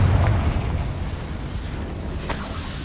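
A Confringo spell blast in Hogwarts Legacy, a loud fiery explosion with a heavy low boom at the start that rolls into a sustained rumbling roar, with a faint crackle later.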